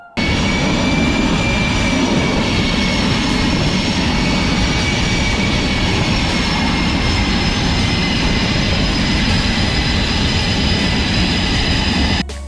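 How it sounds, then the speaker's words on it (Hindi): A fighter jet lands on a ship at sea, its engine a loud, steady roar with a high whine running over it, continuous and close for the whole stretch, with no voices. "पायलट कैसी महारत और एहतियात के साथ मिलियंस ऑफ डॉलर का फाइटर जेट पार्क कर रहा है"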